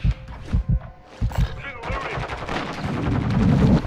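Video game gunfire bursts in rapid automatic rattles and close shots, building into a dense, loud fusillade over the last two seconds, with a voice speaking over the early part.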